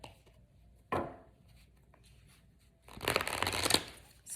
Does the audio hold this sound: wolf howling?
no